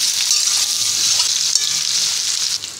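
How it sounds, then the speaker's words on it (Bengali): Potatoes and pointed gourd fry in a pan over a low-to-medium gas flame, giving an even, close hissing sizzle with faint crackles and no voices. "আলুটা পটলটা ভালো করে ভাজা হওয়ার জন্য এখন অপেক্ষা করতে হবে।"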